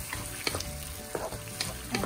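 Enchilada sauce of tomato cooks in a pan, a steady close sizzle and bubbling hiss with intermittent scraping stir strokes from a spoon, no talking.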